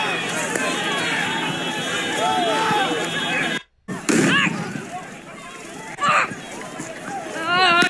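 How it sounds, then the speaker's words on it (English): Launchers firing tear gas at a street protest, with booming shots and popping bursts amid crowd noise, shouting and running, heard near and loud with voices talking over it. "They're firing tear gas at him."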